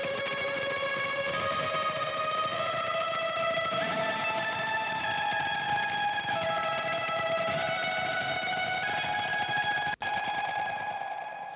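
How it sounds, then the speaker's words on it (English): Sustained post-rock electric guitar notes, rapidly tremolo-picked and heavily distorted with a delay placed before the distortion, wash together through echoing repeats into a dense, shimmering drone before cutting off. "It's this tremolo picking thing."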